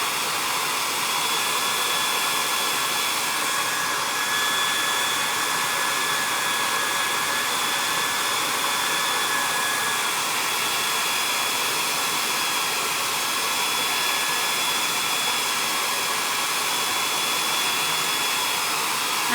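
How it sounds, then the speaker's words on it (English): A hair dryer blows steadily on Chalk Couture ink over a transfer, a loud, continuous airy whoosh with a faint motor whine that holds unchanged from start to finish. "I'm gonna hit this with my hair dryer"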